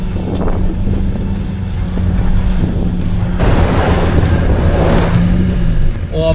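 An SUV engine strains and roars as it climbs a steep off-road slope during a hill-climb comparison of a Jetour Traveller and a Haval Raptor, with wind noise buffeting the microphone and someone talking over the drive.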